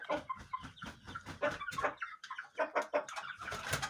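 A young rooster chick nicknamed Kobra peeps and clucks in quick, busy bursts, close by, with other birdlike chatter mixed in and no talk.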